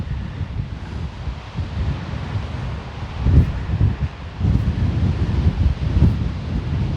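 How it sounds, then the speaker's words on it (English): Wind blows outdoors near open water in grassland on an overcast day, giving a low, steady rush with rough gusts buffeting the microphone, loudest toward the end. "the weather's a bit overcast and windy"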